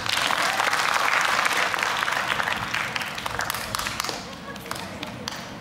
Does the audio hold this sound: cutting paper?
no